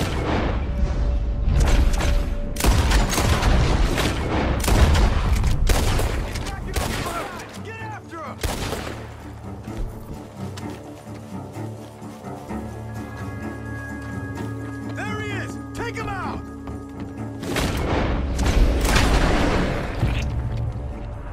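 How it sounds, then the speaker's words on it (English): Gunfire from a Western shootout in the video game Red Dead Redemption 2, with a string of sharp, loud shots, an open-air rumble, and bits of music and galloping hooves under the fight. "The gunshots are coming from that"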